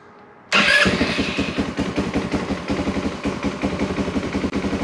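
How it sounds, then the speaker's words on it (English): A Tao Tao Mudhawk 200 ATV engine cranks and catches after a short quiet lead-in, then settles into a loud, close, steady idle with a fast, even putter. "we're gonna start it up, see how she idles and revs"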